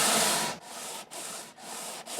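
Sandpaper on a flexible leather block rubs across the wood of a classical guitar in close, rhythmic strokes, about four back-and-forth passes with brief pauses between them.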